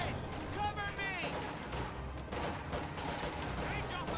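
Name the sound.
gunfire in Company of Heroes 2 video game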